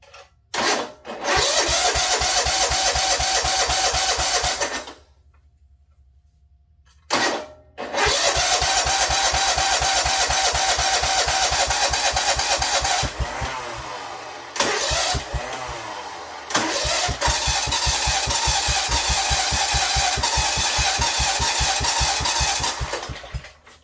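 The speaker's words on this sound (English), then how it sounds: "I'm going to hook my jump pack up to it and try starting it." A 1976 Sears ST10 garden tractor engine cranks with a jump pack attached, then runs loudly and unevenly. It cuts out to near silence for a few seconds, restarts and keeps chugging, with a brief dip partway through before it runs on.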